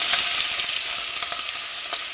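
Loud, close sizzling of onions frying in hot oil, a dense crackling hiss with faint stirring scrapes throughout.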